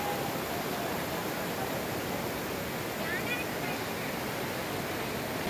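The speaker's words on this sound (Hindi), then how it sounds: "तो आप ये लीदर नदी का ये देख सकते हो कितनी तेज धार बह रही है" Rushing water of the fast-flowing Lidder river near Nunwan base camp in Pahalgam, a constant broadband roar heard close and loud, with faint background voices.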